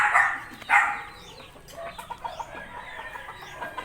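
Backyard chickens with chicks, clucking and peeping near and far, a louder burst of calls early on, then scattered softer chirps continuing throughout with no talk.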